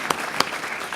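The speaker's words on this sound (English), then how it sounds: "Applause anyway." An audience claps in a brief, steady burst of applause at a comics forum keynote event, with a couple of sharper individual claps standing out.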